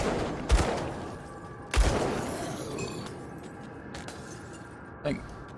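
Gunfire in the Grim Dawn action game: three sharp shots spaced over a few seconds, each with a short decaying tail, over a quiet game background.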